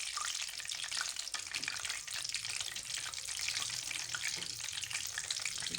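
Potato slices dipped in besan batter fry in hot oil, giving a dense, continuous crackling sizzle that stays steady and close for several seconds with no voices.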